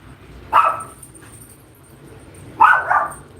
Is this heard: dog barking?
yes